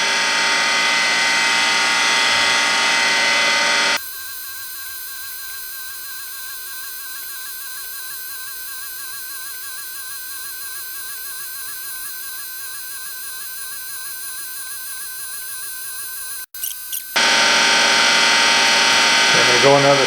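Surface grinder grinding a chuck in a machine shop, a steady mechanical hum with rhythmic pulsing that runs evenly for a long stretch, framed by louder shop noise before and after.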